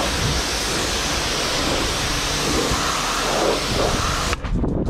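Water rinsing off a car's freshly coated paintwork, a loud, steady rushing spray that runs unbroken and close, then cuts off abruptly near the end.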